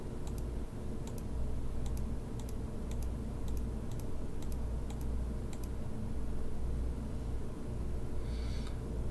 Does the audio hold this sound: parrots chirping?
no